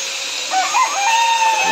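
Roosters and chickens fed in the morning, with a rooster crowing in a bright, drawn-out call partway through over steady background hiss and a few other bird sounds.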